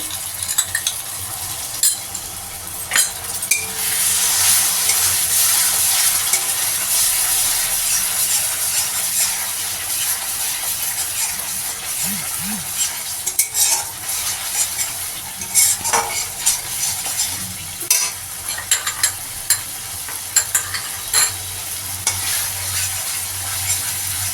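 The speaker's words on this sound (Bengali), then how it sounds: "দইটা দিয়ে দিলাম। আর একটু কষতে হবে।" Masala with yogurt stirred and sautéed in a pan for besan barfi curry, a steady close sizzle with frequent scraping clinks of the spoon against the pan, alone without talk.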